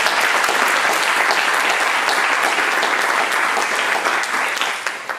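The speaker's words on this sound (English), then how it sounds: "let's have a real round of applause for all the people who participated in the last 4 sessions" A full room of forum participants and attendees breaks into loud, dense, continuous applause at a leadership forum's closing event, holding steady for several seconds before starting to thin out.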